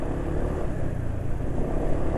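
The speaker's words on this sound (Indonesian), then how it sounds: "ini RPM mesin masih tidak cepat turun, jadi masih licin" A scooter's two-stroke engine runs on Daytona 10W40 full synthetic oil, holding a steady droning rev that lingers without dropping off quickly, close and moderately loud.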